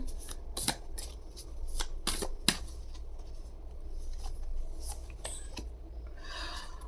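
Tarot cards being shuffled by hand in a quiet room, with soft papery riffles and sharp flicks repeating irregularly, close and fairly quiet with no talking.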